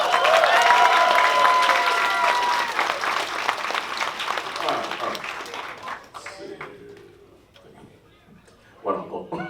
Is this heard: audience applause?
yes